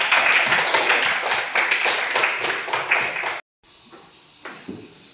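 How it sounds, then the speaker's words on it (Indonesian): Students in a classroom clap together for a presenting group, a dense, loud burst of applause lasting about three seconds before cutting off abruptly, followed by quiet room noise and a few faint knocks. "mari kita tepuk tangan untuk kelompok 2"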